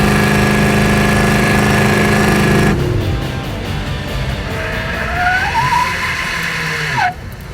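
A Pontiac Firebird race car locks up a tire and skids: a loud engine drone gives way to squealing, rising tire screeches over continued engine noise, ending in a final sharp squeal.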